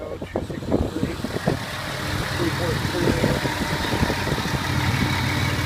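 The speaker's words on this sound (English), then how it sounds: "J&J auto wrecking engine test for 2002 Dodge Caravan" A 2002 Dodge Caravan with a 3.3 engine running on a wrecking-yard engine test, a steady mid-pitched idle with a continuous rumble close by.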